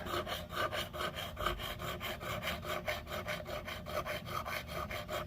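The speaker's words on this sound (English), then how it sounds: "very expensive crowning tool, and with 150 grit diamond file and no pressure" A 150-grit diamond crowning file worked with no pressure across the frets of a Stratocaster-style guitar gives a steady, rhythmic rasping scrape, close up and evenly repeated stroke after stroke, with no talking.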